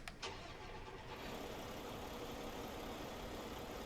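A heavy truck engine, an MP10 in a video game, cranks and catches, then settles into a steady, rumbling idle that carries on alone.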